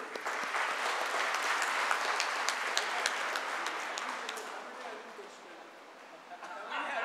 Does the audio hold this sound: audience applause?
yes